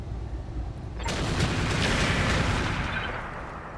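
Mech weapons open fire in BattleTech, a sudden heavy blast about a second in that swells into a sustained roar of explosions and rumbling impacts, slowly fading, with no speech.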